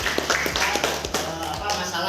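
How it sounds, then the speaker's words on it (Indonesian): A short run of hand clapping from a small group in a classroom discussion, with rhythmic claps under a person speaking throughout. "Kasih aplaus buat Fahri."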